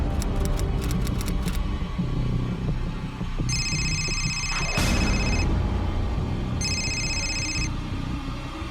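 A telephone ringing in two electronic bursts over a dense background of music and rumble, the rings loud and clear in the foreground.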